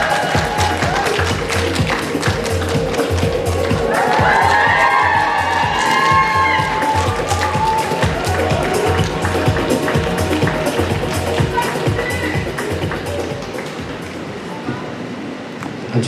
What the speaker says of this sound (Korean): 큰 박수로 맞이해주시기 부탁드립니다.